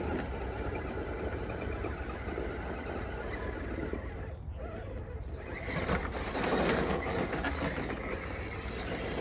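A fake 2.2 Flat Iron XL RC crawler truck pushing through a canyon under moderate throttle, its small motor and gears whining in a steady mechanical buzz that swells louder toward the end.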